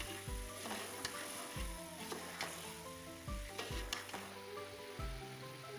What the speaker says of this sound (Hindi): तमाम मसाले ऐड करके हम इनको अच्छी तरह भून लेंगे।